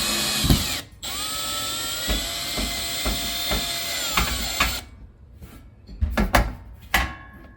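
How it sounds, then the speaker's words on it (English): Power drill driving a screw to mount a wall panel of an Ultrawall garage storage system, a steady mechanical whir from about 1 to 5 seconds, then short separate bursts of the trigger. "screw it in."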